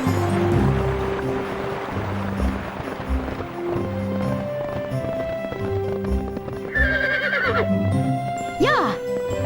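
A wild horse in the video game Barbie Horse Adventures gallops with steady clip-clop hoofbeats under game music, then lets out two loud, shrill whinnies near the end.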